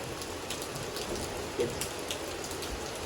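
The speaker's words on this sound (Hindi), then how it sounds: "देखिए कितनी अच्छी बारिश होने लगी है" Heavy rain pouring steadily outdoors, a dense, even hiss of drops with faint scattered spatters, continuous and moderately loud with no voices.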